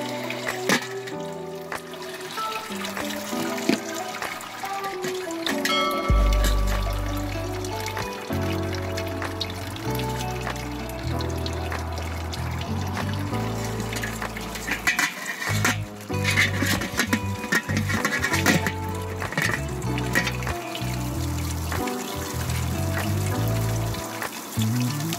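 Hot sparge water pours and trickles steadily for brewing an all-grain chocolate coffee stout, with clinks and handling noises scattered throughout the long, continuous flow.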